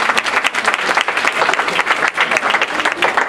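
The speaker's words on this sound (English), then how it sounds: "Can we give them another round of applause?" An audience at a university forensics showcase gives a round of applause, many hands clapping in a loud, close, pulsing burst that continues evenly for a few seconds.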